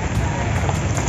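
Heavy rain pours down at a fishing spot, a loud, dense, even hiss of falling water that fills the whole moment without break.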